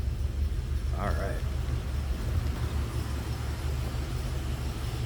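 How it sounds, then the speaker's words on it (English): A 1983 Oldsmobile Cutlass Hurst/Olds runs with its engine idling, a steady, even low rumble throughout, with a brief voice heard near the start. "I like the way this car sounds."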